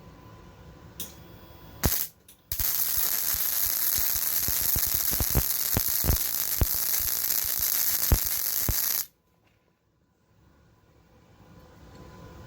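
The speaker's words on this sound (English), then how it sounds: "And you can hear that that is a very smooth weld." A Yeswelder MIG-Pro250 MIG welder runs a bead in manual mode on 1/4 inch material. A loud, steady crackling sizzle lasts about six and a half seconds, then cuts off abruptly into near silence.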